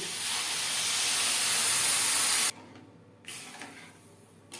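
Milk poured into a hot pan of semolina and sugar gives a loud, steady sizzling hiss for about two and a half seconds, then drops off abruptly, with one brief flare after.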